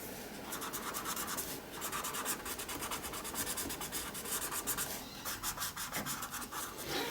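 Colouring pencil rubbing over paper to add a light tint to a drawing, a close, continuous scratchy rasp made of rapid back-and-forth strokes with a few brief pauses.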